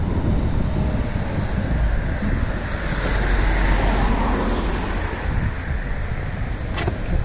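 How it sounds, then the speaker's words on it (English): Cars pass steadily along Berry Lane in Longridge, Lancashire, near a roundabout, a continuous roadway rumble mixed with wind buffeting the microphone and no voices. "Just be careful, we've got some cars passing."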